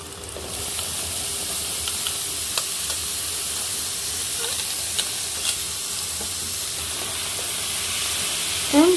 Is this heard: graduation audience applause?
no